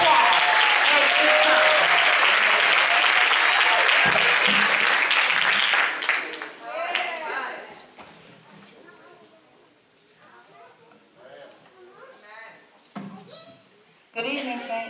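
Audience applause at a church women's convention, loud and sustained for about six seconds before fading out, followed by scattered crowd noise and a short burst of clapping near the end.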